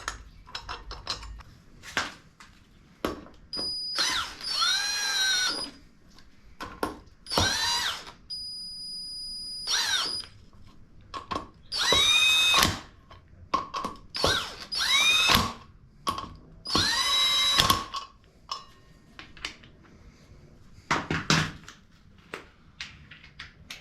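Ratcheting, clicking tool sounds come in repeated short bursts from a torque wrench tightening the chain drive bolts of a Speed Kings Cycle chain drive kit on a Harley-Davidson Dyna Low Rider. Quiet gaps separate the close-up bursts, and nobody talks.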